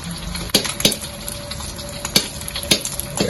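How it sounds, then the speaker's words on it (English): Eggs slow-fry in a pan with a soft, steady sizzle and bubbling, broken by a few sharp clicks and pops from utensils or spattering, close and moderately quiet with no talking. "Now do a slow fry until both sides have a browning and the foam coming out."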